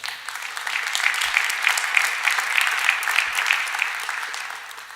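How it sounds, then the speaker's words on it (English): An audience at a city's State of the City address gives a steady round of applause, continuous clapping throughout at moderate distance with no talk over it. "Here, give it a round of applause."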